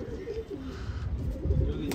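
Pigeons coo in low, soft, repeated calls close by over a steady background hum.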